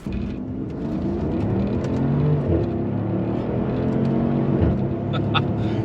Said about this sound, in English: You hear that sound? It is so typical AMG. When you shift, it goes boom, boom. And the exhaust is like it just pops.